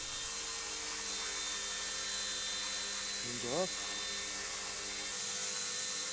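An RC ERA C138 1/33 scale Bell 206 model helicopter hovers indoors with a steady high-pitched rotor whine, a brief rising pitch swell partway through as it maneuvers.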